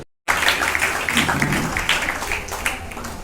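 An audience claps throughout at a Shraddha Parv celebration at Omkar Dhaam in Hansol, Ahmedabad, steady close applause starting abruptly after a brief silence and continuing to the end.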